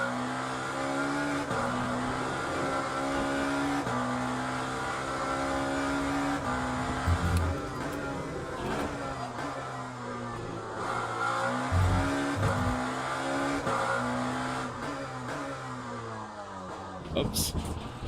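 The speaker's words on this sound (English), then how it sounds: "It does sound like the LMP car, doesn't it?" An LMP prototype race car engine in the Le Mans Ultimate sim racing game drones steadily at high revs throughout, with gear shifts and pitch changes, loud and close.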